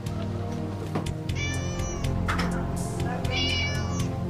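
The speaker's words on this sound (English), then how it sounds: "There are cats on every available surface" Several cats meow and caterwaul loudly in a cat hoarding house during a rescue seizure, overlapping calls rising and falling over a dense background din, with no speech.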